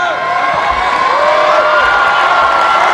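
A gymnastics arena crowd at a men's artistic gymnastics event applauds and cheers a gymnast, a broad steady roar of clapping and voices with a commentator talking over it.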